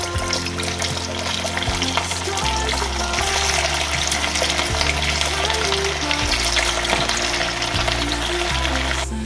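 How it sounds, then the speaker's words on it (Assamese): Marinated chicken pieces fry in hot mustard oil in a wok, giving a loud, steady sizzle throughout with no talk. "এতিয়া মই মেৰিনেট কৰা চিকেনখিনি এক পিচকৈ ফ্ৰাই কৰি লওঁ"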